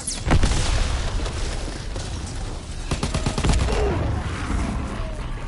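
Rapid bursts of FG 42 automatic gunfire in Call of Duty WWII zombies, loud close cracking volleys with short pauses between strings of shots, amid a booming game background.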